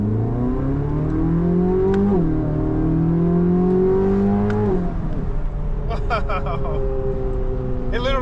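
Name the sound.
Chevrolet Corvette Z06 engine revving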